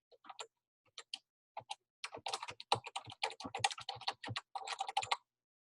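Rapid keystrokes on a computer keyboard while entering data into a spreadsheet, a few isolated taps followed by a dense, steady burst of close, crisp clicking with no voices.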